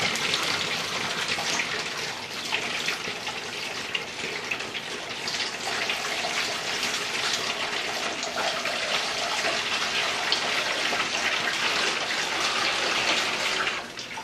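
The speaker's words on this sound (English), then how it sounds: "I'm gonna add 2 gallons of cool water to it." Cool water pouring steadily into a carboy for home brewing, a continuous rushing gush that stays even throughout, close and fairly loud.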